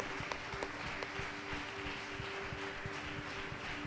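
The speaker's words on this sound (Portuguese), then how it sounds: "se quiser aplaudir mais forte o Senhor, faça isso" A church congregation applauds steadily throughout, a dense wash of clapping at moderate distance with a faint sustained tone running underneath.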